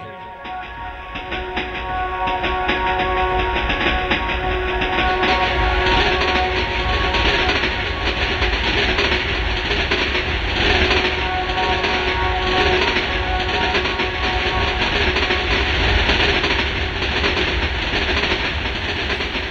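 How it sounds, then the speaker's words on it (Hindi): A train rumbles loudly and steadily close by, wheels clattering, with a long sustained horn tone sounding through the first several seconds. "इतने में हॉर्न देते हुए वहां ट्रेन आ गई।"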